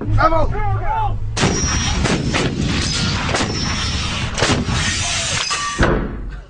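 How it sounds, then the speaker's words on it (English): Artillery shells explode in rapid succession during the Korean War Battle of Imjin River, a dense barrage of heavy booming blasts and thuds, preceded by a brief stretch of speech. "Even inside the reinforced bunker, we could feel the force of the explosions."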